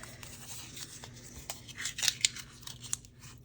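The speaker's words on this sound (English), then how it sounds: "I'm just kind of crumpling it up and then uncrumpling" Paper fabric tag being crumpled and uncrumpled by hand close up, a run of dry crackling and crinkling bursts with a few sharper crunches, no talk.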